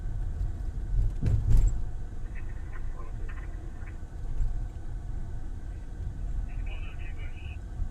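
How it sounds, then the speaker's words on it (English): Steady road traffic rumbles along an Austin street near an elementary school, with a brief louder pass early on, faint tonal sounds and voices heard under the din. "there's a lot of cars down here"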